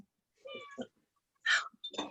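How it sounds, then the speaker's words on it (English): A cat meows twice nearby, short tonal cries separated by a brief pause, with a soft murmur in between. "I hear a meow."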